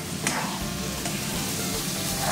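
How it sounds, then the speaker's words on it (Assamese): Tomatoes and red lentils frying in a pan and being stirred, a dense, steady sizzle with scraping strokes of the spoon, close and fairly loud throughout. "লৰাই থাকা অলপ ভাজা"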